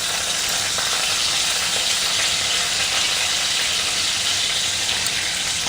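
Cumin, mustard seeds and green chili crackle and sizzle in hot oil in a home kitchen, a steady dense frying hiss that stays loud and close throughout with no talking.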